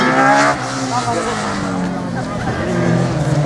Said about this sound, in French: Il y a aussi un moteur de moto, forcément un moteur Suzuki, j'imagine, dans cette voiture.